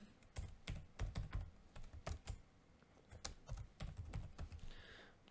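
Keys clatter on a computer keyboard as a login is entered during web-site testing, quick uneven bursts of tapping that pause and resume, quiet and close.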